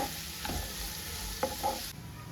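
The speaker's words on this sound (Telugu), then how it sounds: "కొంచెం చింతపండు యాడ్ చేసుకోండి ఇవి వన్ మినిట్ వేయించుకోవాలి" Tamarind and onions fry in a pan for a spinach and onion chutney, making a steady close sizzle with a few soft stirring scrapes and clinks.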